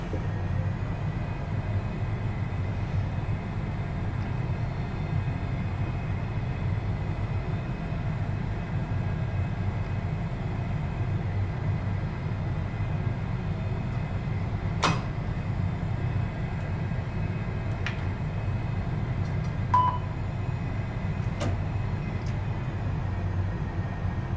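An Airbus A320 begins to taxi, its engines giving a steady low rumbling drone with a faint higher whine held evenly throughout, broken only by a couple of brief clicks; no voices.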